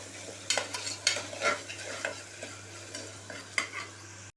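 Sambar powder and asafoetida frying in hot oil make a soft steady sizzle, with irregular scraping and clinking from a spoon stirring the pan, close and without talk.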